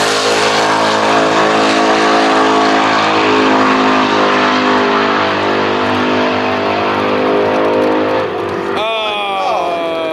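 A Foxbody drag car on a drag strip, its engine roaring loud and continuous at a steady high pitch for several seconds before the tone shifts and drops near the end.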